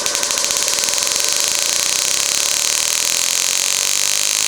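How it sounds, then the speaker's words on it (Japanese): An experimental motor fitted with a photo interrupter whirs at very high speed, a steady, loud, high-pitched whine that holds constant throughout. "4倍の 6000×2 の12000回転でエンジン回ってる状態です、これが。"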